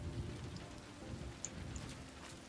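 Steady rain falls in the game Road 96, a soft constant patter on surfaces with faint low rumbles underneath, with no voices.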